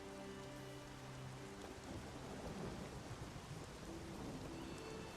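A thunderstorm with heavy rain in The Witcher 3, with a continuous rush of rainfall and deep rolling thunder rumbling underneath, loud and close with no voices.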